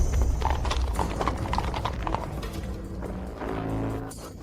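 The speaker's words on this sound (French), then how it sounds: "Wezong Dao, je vois que c'est ta première fois à cheval." A horse's hooves clip-clop in a steady, close rhythm that continues throughout, with faint rattling mechanical noise mixed in.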